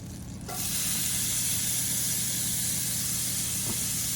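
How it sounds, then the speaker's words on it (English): Chopped onion hits melting butter in a hot pan on the stovetop and breaks into a loud, continuous close sizzle that holds steady to the end. "as that butter is melting, I'm gonna go ahead and add the onion"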